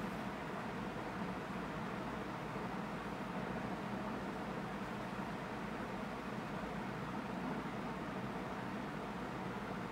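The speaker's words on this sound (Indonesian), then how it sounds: "Hujan kah di sana? Bukan, ini suara kipas." A household electric fan runs in a room, giving a steady, even broadband whoosh with a faint low hum, continuous and unchanging for the whole stretch with no voices.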